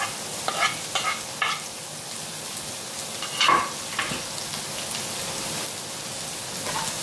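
Finely chopped ginger sautéing in a pan for chicken curry with mushrooms, a steady light sizzle broken by a few sharp stirring scrapes and clacks of a spoon, one louder burst in the middle, with no talk.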